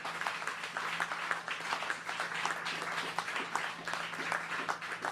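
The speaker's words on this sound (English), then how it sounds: "Let's give them a round of applause." Supporters at an election night rally give a round of applause, moderately distant clapping with scattered sharper claps in a roomy space, continuous and fairly even throughout.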